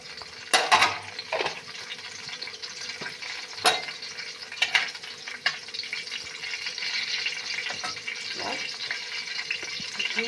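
White oil and ghee heating in a kadai (wok) give a soft, steady sizzle with a few sharp clinks and scrapes of utensils close by, and no talk over it.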